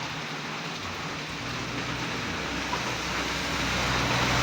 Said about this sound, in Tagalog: yung tunog sa sa gulong ng sasakyan, meron ng halong elemento ng tubig